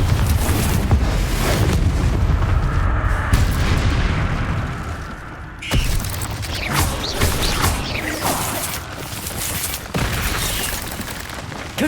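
Repeated Confringo blasting spells go off in Hogwarts Legacy as dense, loud explosive rumbles and crashes, with one sharp blast midway followed by more booming.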